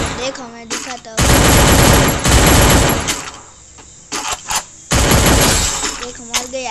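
Loud bursts of automatic gunfire from the Free Fire video game come in several rapid volleys separated by short pauses, with quieter game sounds in between.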